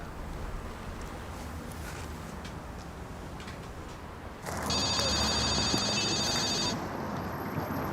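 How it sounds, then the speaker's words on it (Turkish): A telephone rings in a quiet indoor scene, a steady electronic trill lasting about two seconds over low background hiss, then stopping. "Şeyden beri telefonlar kesilmiyor."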